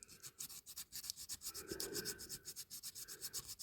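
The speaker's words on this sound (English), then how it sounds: "And then we go with some sandpaper." Sandpaper rubbing back and forth over a 1956-61 diecast Dinky Toys telephone service van body, a quick, even rhythm of short scratchy strokes, close and fairly soft, with no voices.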